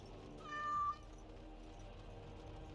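A cat meows once in the Dragon Age Origins: Awakening video game, a short, fairly clear mew lasting about half a second over a quiet background hum, with no talking.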